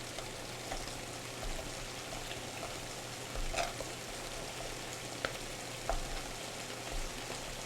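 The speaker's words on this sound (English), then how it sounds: "Let's stir it up." Steak fajitas frying in a pan on a stove, a continuous moderate sizzle with light scrapes and clicks as the food is stirred, steady hum underneath and no speech.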